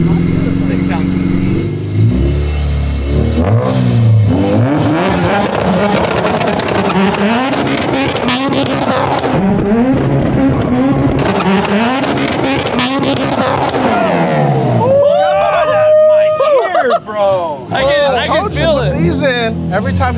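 A 400 hp supercharged, B18-swapped Honda Civic Si engine revs hard, rising and falling through repeated loud pulls over about twenty seconds, with people talking and shouting over it nearby.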